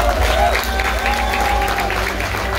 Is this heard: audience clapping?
yes